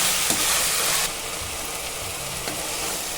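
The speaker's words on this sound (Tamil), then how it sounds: "தக்காளி நல்லா வதங்கி வரட்டும்" Tomatoes sautéing in a pan for chicken biryani, a continuous sizzling hiss that drops slightly in level partway through, with faint stirring taps.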